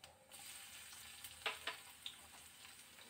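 Cumin seeds and garlic hitting hot oil in a pan for an amaranth-leaf sabji, a steady faint sizzle with a few sharper crackles and pops, quiet and without voices.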